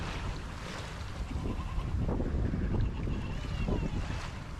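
A sailboat runs wing on wing past Cape Finisterre at about five knots, with wind buffeting the microphone and water rushing along the hull in a steady, fairly quiet wash.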